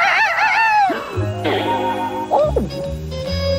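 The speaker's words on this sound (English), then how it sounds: "Another Kellogg's Cornflakes morning with Cornelius Rooster." A cartoon rooster crows loudly in a Kellogg's Cornflakes commercial, a wavering cock-a-doodle-doo followed by a short jingle of musical notes and clucking tones.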